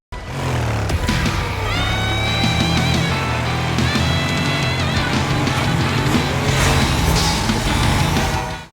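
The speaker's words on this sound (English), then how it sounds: "these karts sound like they could actually race" Racing kart engines in the Team Sonic Racing video game roar steadily and loudly, with whining revs rising and falling over a dense mix of game sound and music throughout.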